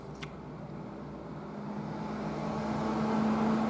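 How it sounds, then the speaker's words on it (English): A truck passes on a road nearby, its rumble building steadily from faint to louder over a few seconds, with a brief click near the start and no talk. "After this truck goes by."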